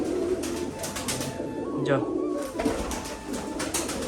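Moulting pigeons in a rooftop cage coo softly under continuous nearby talk, against a busy background of fluttering and shuffling.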